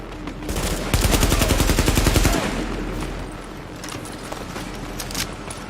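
Sustained automatic gunfire in the video game The Division: a loud rapid rattle of shots runs for a couple of seconds, then fades into scattered distant shots over a busy game ambience.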